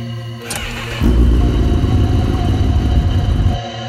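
A superbike engine on the move, its loud, rough mid-pitched roar surging in abruptly and holding steady for a few seconds before cutting back, close and dominant with no voices.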